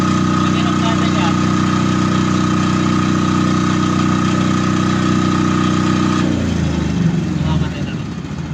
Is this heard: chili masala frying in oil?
no